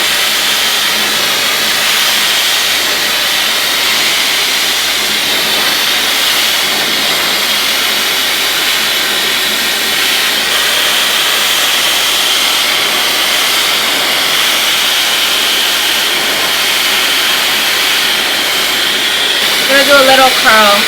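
A hair dryer roars steadily while blow-drying hair, a loud continuous rushing hiss held close for the whole stretch with no break, with a little shuffling near the end.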